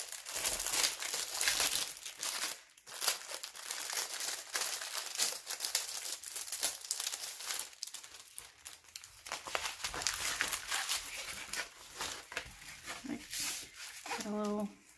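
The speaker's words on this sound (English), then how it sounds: "So it came in a little bubble wrap and also in a plastic wrap." Bubble wrap and plastic wrap being unwrapped from a diamond painting kit, with intermittent crinkling and rustling bursts while a person talks over much of it.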